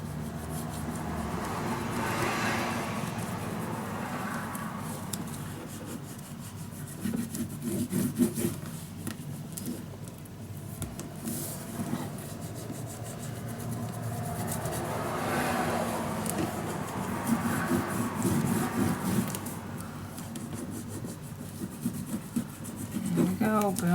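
Paper being burnished down onto a book with a rubbing tool, a steady scraping rub that swells and fades in repeated strokes, close and continuous with no talk over it.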